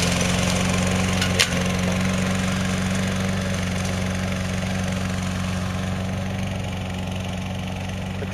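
Small engine of a radio-controlled lawn mower running low on gas after 12 years, a continuous buzzing drone at steady idle with a faint click early on, close and alone without speech.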